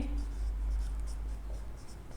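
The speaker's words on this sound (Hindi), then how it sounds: "पहले ए लिखेंगे" Marker or chalk scratches across a board during a vector cross product lesson, sounding as short, close strokes in a steady rhythm over a low background hum.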